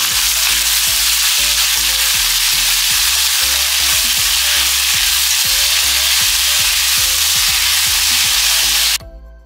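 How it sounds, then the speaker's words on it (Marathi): Chopped tomatoes sauté in hot oil in a pan, giving a loud, steady sizzle with repeated scraping stir strokes throughout, ending abruptly. "हे टोमॅटोज आपण याच्यामध्ये ऍड करणार आहोत आणि हे देखील आपल्याला व्यवस्थित परतून घ्यायचे आहे"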